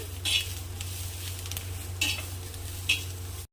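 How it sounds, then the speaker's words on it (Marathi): Green chillies sautéed over medium heat and stirred in a pan until blistered, with a soft steady sizzle broken by three sharp scraping stirs over a low background hum. "असं मिडियम आचवर परतून घ्यायचं असं हलवत राहायचं आणि थोडं डाग पडेपर्यंत आपल्याला परतून घ्यायचं आहे मिरची"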